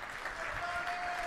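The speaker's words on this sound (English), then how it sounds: "So can we give him a round of applause to get him up here?" Steady audience applause at a Litecoin event, a crowd clapping to welcome a speaker to the stage, dense and even throughout with no pauses.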